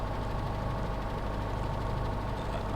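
A P-38 Lightning engine in a flight simulator turns over with a steady low rumbling drone and faint rhythmic pulsing, even and unbroken, with no talk.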